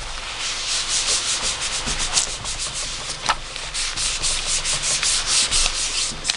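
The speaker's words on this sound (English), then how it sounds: "So when I clean up my mat, I just use a little bit of regular rubbing alcohol and a towel to clean it up." A towel dampened with rubbing alcohol is rubbed steadily across a craft mat, making a continuous close-up scrubbing hiss with no voices.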